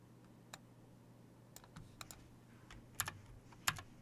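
Computer keyboard keys pressed while playing the rhythm game DJMAX RESPECT V: scattered sharp clicks and a few clustered taps, close and fairly quiet over a steady low hum.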